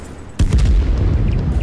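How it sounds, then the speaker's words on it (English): Explosions and gunfire in the war video game Total Conflict: Resistance: a sudden loud blast followed by a dense, rumbling roll of battle noise, with no talking. "How is the explosions down there?"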